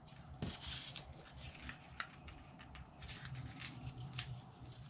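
Small scissors snipping little angled paper pieces off an envelope while making a platform box, several quiet crisp cuts scattered over a low background, close and faint.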